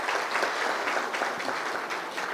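Audience applause fills a formal ceremony hall, a dense, steady clapping from a crowd at moderate distance that continues without a break.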